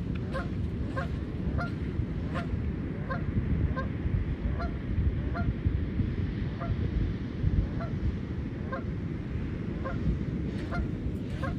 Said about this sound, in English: The lone Canada goose.